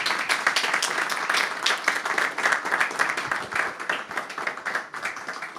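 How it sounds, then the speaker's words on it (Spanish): Applause for panelists at the close of a seminar on environmental noise, a room full of people clapping loudly and unevenly, thinning slightly toward the end, with no talk over it. "les pido un aplauso, digamos, por su participación."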